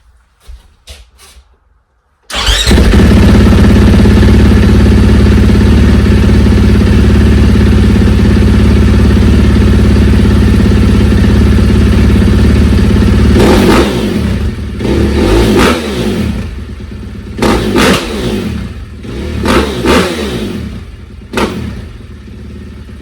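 A 450 snowbike engine with stock exhaust fires up and idles loudly, then several sharp throttle blips rev up and drop back, close to the listener.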